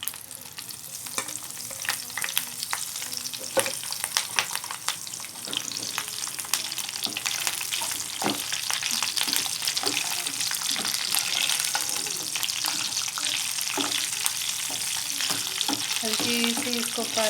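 Chilies fry in hot oil alongside browned cumin for achari mung-masoor dal, a steady crackling sizzle with frequent spoon-stirring scrapes, close and continuous throughout.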